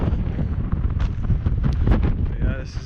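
Wind buffeting during a snowstorm, a loud, continuous low rumble with gusty swells right at the microphone throughout.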